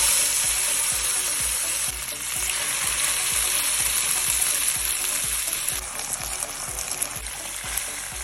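Marinated beef bulgogi sizzles and fries steadily in oil in a pan, a loud, continuous crackle with occasional stirring sounds, no voices.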